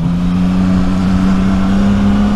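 A CF Moto 675 NK motorcycle's exhaust runs steadily at high revs, loud and close, a sustained droning tone with no talk.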